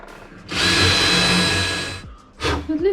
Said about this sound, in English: Drilling out old holes.